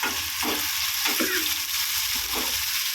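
Onions and curry leaves hit hot oil for a prawn and drumstick dish, a loud, steady sizzle with bursts of stirring scrapes running throughout.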